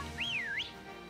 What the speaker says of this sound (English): if you whistle, he will come attack you